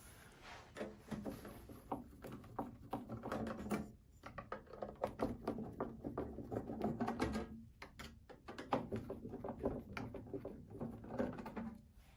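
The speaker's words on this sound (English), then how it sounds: "using a Phillips screwdriver, we're gonna be removing the 3 screws on the outside of the case." A Phillips screwdriver backs out the outer case screws on a Zebra ZT400 industrial label printer, producing a dense, continuous run of close mechanical clicking and rattling with brief pauses.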